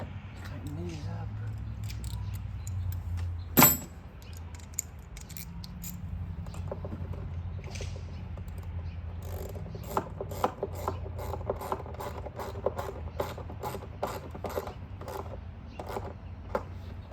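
Bolts being tightened with a ratchet during fuel injector replacement on a 2012 Chrysler Town & Country: faint, steady clicking and mechanical rattling through a long stretch, with one sharper metallic knock early on, no talking.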